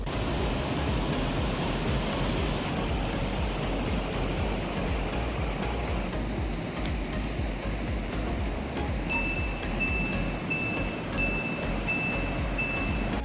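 A powerful river rushes near the Caozo waterfall in Spain's Valle del Jerte, a loud, continuous broadband roar that holds steady throughout with no voices.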